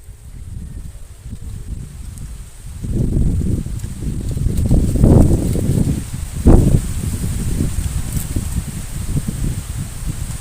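Gusty wind buffets the microphone with a rough low rumble, swelling after a quiet start and staying strong throughout.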